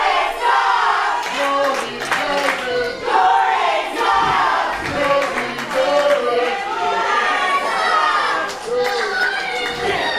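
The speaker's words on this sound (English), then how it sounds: "The crowd's chanting Jordan, James." A wrestling crowd at a live event chants the wrestler's name Jordan James in loud, rhythmic repeated waves, with cheering and scattered claps mixed in.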